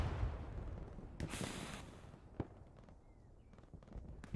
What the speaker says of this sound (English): The Allies are pushing them back with a fantastic bombing run.